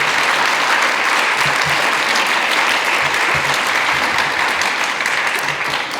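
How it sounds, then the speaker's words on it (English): An audience at a Dr. Martin Luther King community event applauds steadily and loudly for an award recipient, a dense wash of clapping that holds for several seconds before easing slightly at the end. "so just a round of applause for him."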